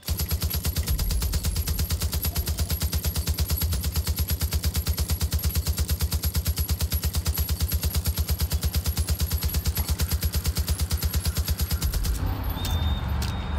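Rapid automatic gunfire in the video game Far Cry 5, a long unbroken burst of evenly spaced shots that runs for over twelve seconds, loud and close, then stops abruptly with a brief ringing tone.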